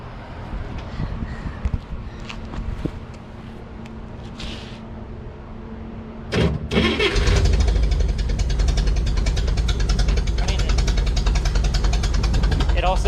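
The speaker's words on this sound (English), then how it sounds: "I have it in fourth gear and the idle is way down and I'm not revving the motor up" A 1963 Corvair engine idles low in fourth gear without being revved. A deep rumble rises and holds steady partway through, with a person talking over it.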